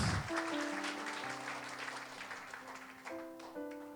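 A church congregation claps weakly and briefly, the faint scattered applause mixing with sustained keyboard chords that play on over it.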